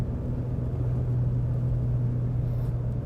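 A 2021 Ford Raptor with new 5-link suspension drives a desert road with its exhaust in Baja mode, giving a steady, deep, even rumble with no other sounds.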